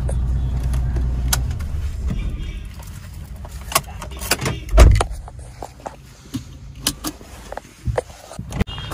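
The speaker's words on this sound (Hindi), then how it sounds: "यहाँ से यहाँ पे गाड़ी को पार्क कर लेते हैं" A car is parked beside an excavator. A low engine rumble fades out early, then come jangling keys, clicks and a solid door thump, with scattered rattles and taps nearby afterward.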